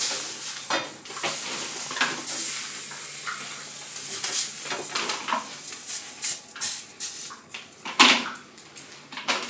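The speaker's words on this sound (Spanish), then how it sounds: "Vamos a ir poniendo a cocinar también los chiles y los tomates" Chiles and tomatoes cook in a pan on a home stove, soft sizzling under irregular clinks and scrapes of a utensil against the pan, fairly quiet and close, with no talking.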